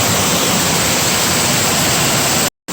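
A waterfall in the Oregon Coast Range roars as a loud, dense, unbroken wash of broadband water noise, cutting out abruptly for a moment near the end before resuming.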